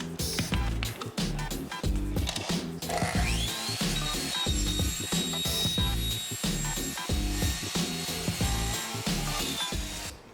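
A hand saw cuts plastic pipe to length, a close steady back-and-forth rasp with regular strokes that continues throughout.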